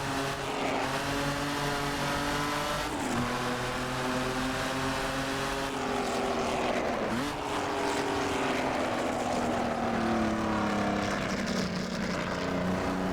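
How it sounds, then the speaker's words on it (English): The Jaguar XJ13 race car in the Assetto Corsa video game, exhausting through straight pipes, lets out a loud, continuous, raspy engine wail that climbs in pitch and drops sharply at several gear shifts while braking and accelerating through corners. "it's exhausting through pretty much straight pipes out the back"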